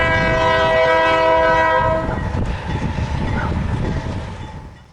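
CN Q193, a northbound intermodal and auto freight train, approaches with a long loud horn blast that fades after two seconds into the rumble and rail clatter of the oncoming train.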